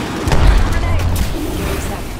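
Bursts of gunfire in Apex Legends, with heavy low booms and shots layered over one another, loud and close throughout, with a voice calling out over the fighting.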